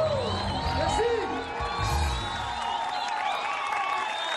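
Applause from a live studio concert audience for a Moroccan singer, dense sustained clapping with cheering and whoops, fairly loud, music faintly lingering underneath.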